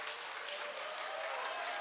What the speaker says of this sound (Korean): 박수까지 치면 어떡해?